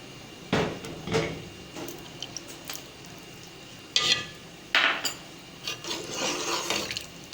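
A spoon scrapes and knocks against a pot while thick beef nihari curry is stirred, several distinct clanks and scrapes spaced irregularly, close and fairly loud with no voices.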